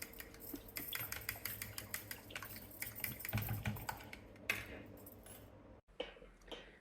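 French toast mixture is stirred in a bowl, producing quiet, rapid clinks and taps in an irregular rhythm, close and faint in a home kitchen.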